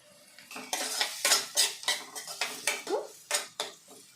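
Onions sauté in a pan while a metal spoon or spatula stirs and scrapes repeatedly, giving close, rhythmic clinks and scrapes with a faint sizzle underneath and no talk.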